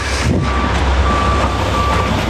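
A large concrete truck at a patio and garage pour idles and rumbles nearby while a steady high electronic beeping from its reversing alarm repeats through the clip.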